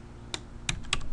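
Short bursts of typing on a computer keyboard while entering a measurement in Richpeace garment pattern software, three separate clusters of key clicks heard up close over a quiet room.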